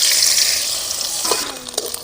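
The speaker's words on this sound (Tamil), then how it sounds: "தேங்காய் நல்லா பொரியிட்டு" Chopped coconut sizzles and fries in two spoons of hot ghee in a pan, a steady close crackle with occasional sharper pops and a light stir near the end.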